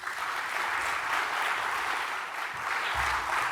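Sustained applause from a conference audience for a panel speaker, a dense, even patter of many hands that holds steady throughout with slight swells.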